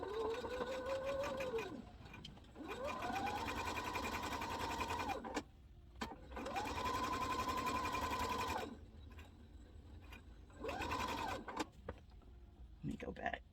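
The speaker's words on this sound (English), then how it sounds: "So let's come to the sewing machine and get sewing." A sewing machine stitching fabric for a handmade memory bear, running in long steady whirring bursts with a rising motor whine, stopping and restarting several times, fairly quiet and close.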